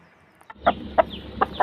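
A hen clucks at a fighting-cock camp, four short, evenly spaced clucks close by, each a quick bright burst after a brief quiet start.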